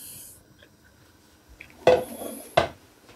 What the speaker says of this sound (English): Add the okro, you mix everything together, stir very well until they are uniform color.